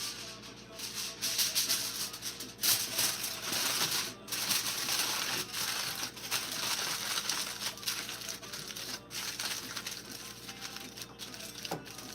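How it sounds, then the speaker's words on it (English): Aluminium foil crinkles and crackles steadily as it is folded around the edges of a cake pan, a close, continuous papery rustle with occasional sharper crumples and no talking. "wrapping edges in foil like that"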